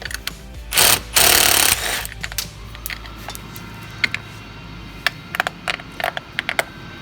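A 13 millimeter tool working a part loose on a John Deere air cart meter roll, with two loud rasping ratchet bursts followed by scattered sharp metallic clicks and taps close by.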